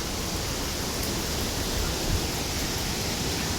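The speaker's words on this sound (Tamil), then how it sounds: "வாட்டர் ஃபால்ஸ் வேறு இருக்குது" Ravana Falls in Sri Lanka pours as a steady, dense broadband roar, even and unbroken, with no voices over it.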